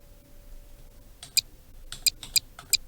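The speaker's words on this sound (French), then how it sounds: "Soit vous tapez au clavier" A few separate keypresses on a computer keyboard, sharp isolated clicks spaced unevenly over a quiet background.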